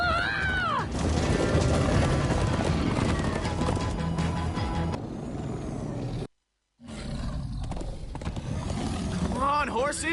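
Horses galloping in Minecraft Story Mode, a steady clatter of hooves with neighs and whinnies, loud and continuous, interrupted by a brief silence partway through.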